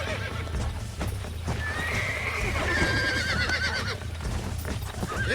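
A horse in the Red Dead Redemption video game lets out a long, loud whinny over a steady clip-clop of hooves, with no voices on top.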